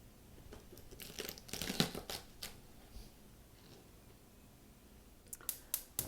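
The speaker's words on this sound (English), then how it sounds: "I'm just going to cut off the last, maybe a fourth or so of the stem" Asparagus stems trimmed with a knife on a board, a cluster of sharp crisp snaps and clicks, then a pause, then several more quick cuts near the end.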